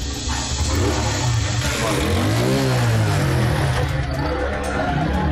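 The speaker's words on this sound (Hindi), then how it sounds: "अहमद एक मोटरसाइकिल के पीछे बैठ गया और फिर वो सब दूर जाते दिखाई दिए" A motorcycle engine pulls away under steady traffic-like noise, its pitch rising and falling as it revs and moves off, loud and continuous throughout.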